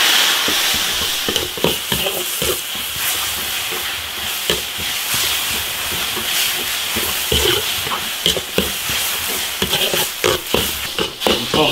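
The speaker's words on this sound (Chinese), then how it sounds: "把剁椒先炒一下" Chopped chili peppers stir-fried in an iron wok, a loud continuous hiss and sizzle broken by repeated scraping clatters of the spatula, close up with no talking.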